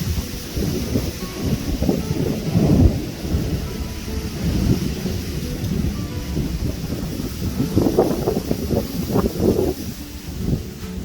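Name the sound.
thunder and rain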